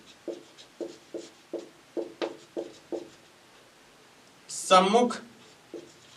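Chalk or marker writing on a classroom board during a maths lesson, a series of short regular strokes tapping out under quiet surroundings, with a teacher briefly speaking.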